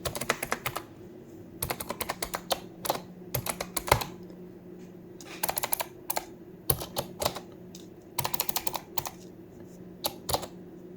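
Python code for a Flask blockchain app is typed on a computer keyboard, with close, crisp key clicks in quick bursts split by short pauses and steady low background hum.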